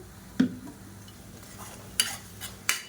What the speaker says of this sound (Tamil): இப்போ பாருங்கள், வெங்காயம் நல்லா வதங்கிட்டு இருக்குது.